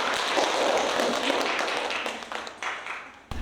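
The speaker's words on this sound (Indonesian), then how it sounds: "silakan kasih tepuk tangan dulu." Classroom applause for a group that has just finished presenting its discussion results, a dense wash of clapping from many hands that tapers off over a few seconds, with a couple of louder single claps near the end.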